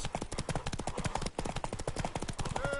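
Rapid, rhythmic clip-clop of galloping horse hooves in the video game The Witcher 3, close and steady, with a brief pause midway before the pounding resumes.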